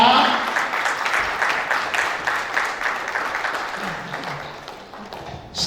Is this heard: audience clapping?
yes